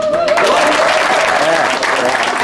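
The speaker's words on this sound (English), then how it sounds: "a clap, just a clap." An audience at a Colorado Air National Guard retirement ceremony claps in a full, steady burst of applause from many hands, with faint voices mixed in.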